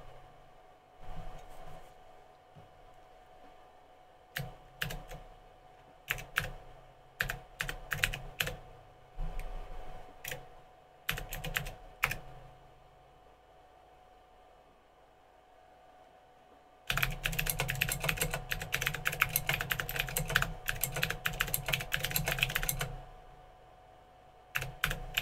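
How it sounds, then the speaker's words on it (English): A Cherry MX Blue switch keyboard is fitted in a retro C64 case. Its sharp, clicky keystrokes come first in scattered bursts, then as a long run of rapid continuous typing before trailing off, all close and with no talk. "The keyboard is Cherry MX Blue switches"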